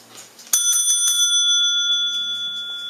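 A single bright bicycle-style bell ding, used as a rating sound effect, struck once and left ringing out with clear sustained tones that fade slowly over a few seconds.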